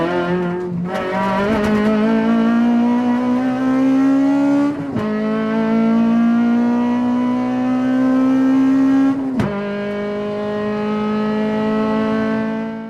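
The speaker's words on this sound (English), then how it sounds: "Here is what that Prius sounds like, that Prius engine" A Toyota Prius engine screams up to around 9,000 rpm in sustained high-pitched revs, holding the note with two brief drops between pulls, close and loud with no voices.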